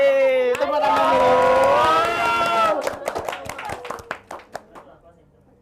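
A crowd of students cheers and shouts over voices, then breaks into scattered clapping that thins out to a few separate claps as the noise fades away.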